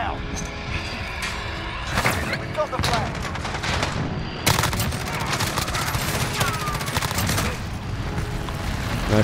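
Modern Warfare gunfire crackles in rapid, loud bursts of automatic shots with some heavier booms, nearly continuous across the stretch, while a player talks over the shooting.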